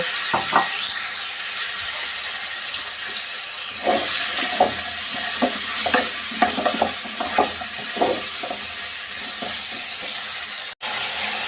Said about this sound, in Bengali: এখন ফুলকপি দিয়ে হালকা ভেজে নিব।